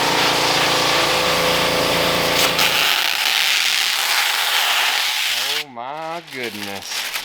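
A pressure washer sprays a car with a loud, steady hissing roar that cuts off partway through, after which people talk briefly over quieter background noise.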